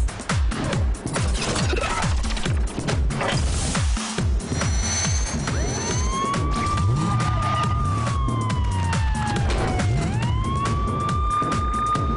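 A cartoon fire truck siren wails, rising and falling over busy background noise, with a long steady tone sweeping up again near the end.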